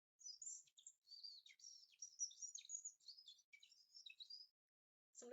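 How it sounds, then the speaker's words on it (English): Small birds chirp and tweet in quick, high bursts through a quiet kitchen, a near continuous run of little calls that stops abruptly before a brief noisy rustle at the end. "the sound of birdsong"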